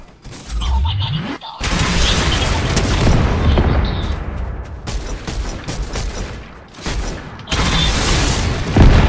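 Heavy video game gunfire, with loud booming shots and dense bursts over several seconds, broken by brief pauses.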